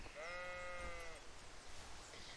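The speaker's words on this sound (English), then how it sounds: "So sheep actually do spawn here" A sheep in the Kingdom Come video game, in the village of Skalitz, lets out one clear, wavering bleat lasting about a second over steady outdoor ambience.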